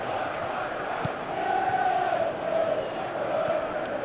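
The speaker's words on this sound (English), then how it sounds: "the crowd are reacting to that now" Crowd at a Manchester City vs Chelsea match in the PES 21 football video game, a steady, fairly loud stadium roar with rising chants and no clear speech.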